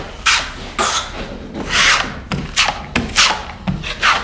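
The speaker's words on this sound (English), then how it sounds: "I take the same 12-inch trowel and I remove most of the joint compound" A 12-inch drywall trowel scrapes joint compound across a drywall wall in about seven short, rasping strokes, each a brief gritty swipe with small pauses between, close and clear with no talking.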